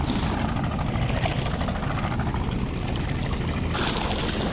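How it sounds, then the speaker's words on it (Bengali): A cattle-laden trawler's engine drones steadily on the Kaliganga river at Jamsha amid wave-washed water, a continuous low rumble that stays loud and unbroken throughout. "আর হচ্ছে এই যে ট্রলার নিয়ে যাইতেছে"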